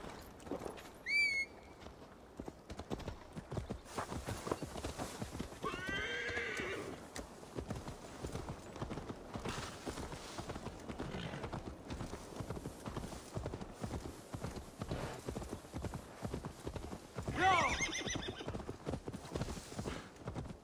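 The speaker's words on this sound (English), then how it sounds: "to deliver Magni his horse" A horse's hooves clip-clop steadily in Assassin's Creed Valhalla, with a few whinnies and neighs and some faint bird calls, in a long, even stretch of game sound.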